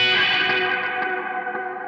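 A sustained guitar chord rings out through a lush, wavering modulated reverb from a Keeley pedal, its shimmering tail slowly fading with faint picked notes.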